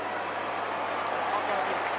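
Crowd at an Australian football match sends up a steady, broad wash of applause and cheering after a goal by Geelong's Tom Hawkins, sustained at even loudness throughout without a break.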